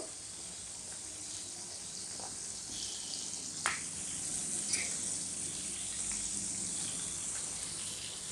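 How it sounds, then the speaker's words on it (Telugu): Tempering sizzles in a pot of pappu charu lentil soup, a faint, steady frying hiss that runs throughout with a couple of small pops and crackles. "ఇక డైరెక్ట్ ఇక తాలింపు పెట్టేసుకున్నాం పప్పుచారుని."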